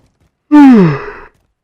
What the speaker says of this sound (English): I'm sorry for yawning in your guys' ears.